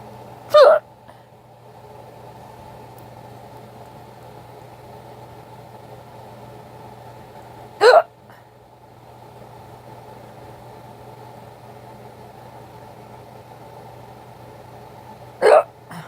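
Three distinct hiccups from a person, each a sharp, close burst spaced several seconds apart over a low steady background hum.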